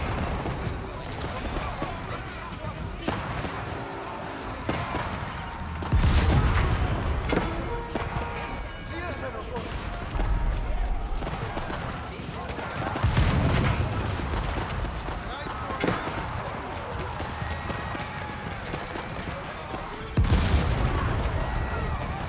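Janissary gunfire in Age of Empires 4: repeated volleys of crackling shots and heavy booms erupt in bursts every few seconds amid battle noise, with a commentator talking throughout.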